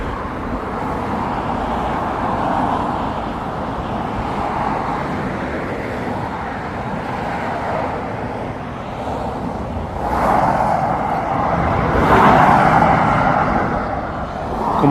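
Steady roar of road traffic going past a roadside spot, continuous car and vehicle noise that swells loudly as nearer vehicles pass near the end, with no talking.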